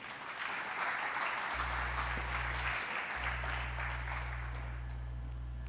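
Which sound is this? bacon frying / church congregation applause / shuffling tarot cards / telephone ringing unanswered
church congregation applause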